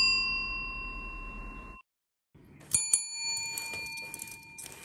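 A bright bell-like ding sounds at the start, a high sustained tone that cuts off into silence, followed by scattered light clinks and handling noises.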